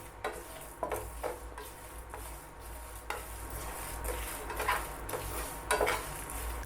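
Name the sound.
roasting spice masala with rice in a pan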